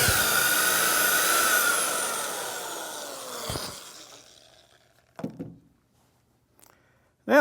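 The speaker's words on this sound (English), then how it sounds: "So I'm going to use my drill, a 1/2 inch brad point drill bit." A power drill with a 1/2 inch brad point bit bores into wood for a chair leg, a loud whining spin that winds down over several seconds, followed by a couple of short knocks and a brief burst of noise.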